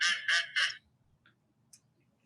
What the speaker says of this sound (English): It is a mallard duck drake.